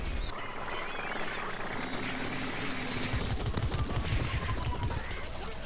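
Laser weapon fire from a Toxic Brains attacking Party Corn in the game The Mystery Portal, rapid crackling bursts over a dense battle din, with sharper volleys in the latter half.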